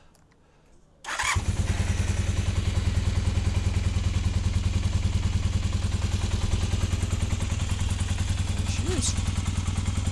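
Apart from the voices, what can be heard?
motorcycle engine running after top end rebuild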